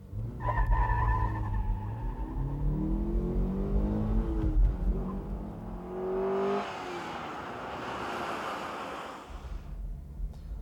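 A Dodge 2000 GTX sedan's engine roars as it accelerates at full throttle, pitch climbing through gear changes, followed by a loud rush of wind and road noise.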